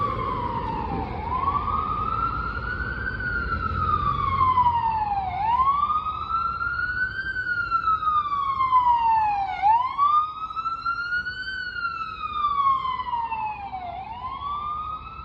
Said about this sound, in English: Let's just wait for the siren to pass.